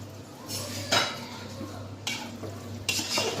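Cream macaroni pasta with green olives being stirred in a pan, with repeated scraping and clinking strokes of a utensil against the metal over a low background hum and faint sizzle.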